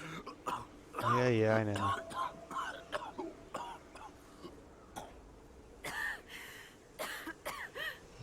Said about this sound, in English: Hearing other people coughing.